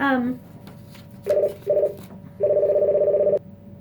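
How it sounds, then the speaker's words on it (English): A telephone rings in short repeated electronic bursts, two quick rings followed by one longer ring, clear and fairly close, after a brief bit of speech at the start. "My phone rings from time to time"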